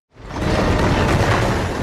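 A large bomb blast in an action film, set off near a truck, starts abruptly and swells into a loud, sustained rumbling roar that holds for over a second with no voices.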